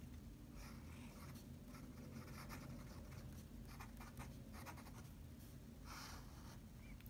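A Sailor 14 karat fine fountain pen nib scratches quietly across paper in short strokes, faint and close, with no one talking.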